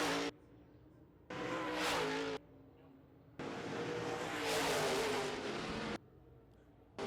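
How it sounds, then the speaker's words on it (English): Modified race cars roaring past on a short oval track in a feature race, engines surging loud in long bursts as they pass, then dropping to a quieter background between passes. "3 to go for Ward Emery in the K4 Emery Demolition number 10."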